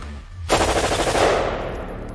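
An AR-15 rifle fires on full auto, a sudden loud rapid burst of shots in quick succession that runs for over a second and then fades into ringing echo.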